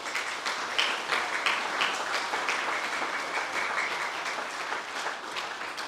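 Sustained audience applause at a school senior prizegiving ceremony, a dense, steady wash of many hands clapping at moderate loudness throughout, with no talk over it.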